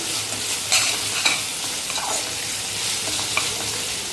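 Breadfruit pepper fry with dried chillies, curry leaves, shallots and ginger-garlic paste sizzles steadily in a pan, a spatula scraping and stirring through it with a few sharper clinks, close and continuous without talk.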